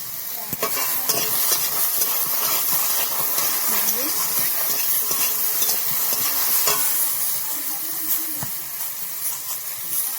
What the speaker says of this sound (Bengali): সেটা ভালো করে ভেজে নেব।